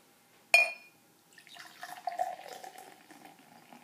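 Corona Familiar beer poured down the center of a glass: a sharp clink at the start, then a soft, close trickle of liquid and fizzing foam that rises and tapers off.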